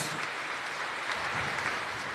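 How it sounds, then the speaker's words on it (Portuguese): A church congregation claps for the children during Mass, a short burst of dense, even applause at moderate level with no voices over it. "uma salva de palmas para as crianças"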